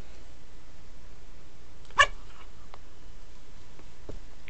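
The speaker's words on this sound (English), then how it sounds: "Crazy dog." A puppy gives a single sharp bark near the middle, close and fairly loud, followed by a few faint small yips and noises against a quiet room.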